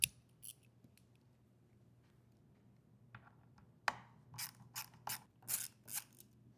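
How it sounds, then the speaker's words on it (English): Ratchet turning out T15 Torx screws from the upper cap of a Lowrance Ghost trolling motor, faint and close, with a few scattered clicks early on, then a burst of sharp, quick ratcheting strokes toward the end. "there are 14 T15 Torx screws that hold on the upper cap assembly. So we need to take every single one of those out"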